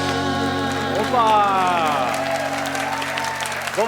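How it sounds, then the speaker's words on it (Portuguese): Applause for the band at a live recorded talk show, a broad wash of crowd clapping mixed with sustained sung and instrumental tones and voices, loud and continuous throughout. "Vamos aplaudir nossa banda"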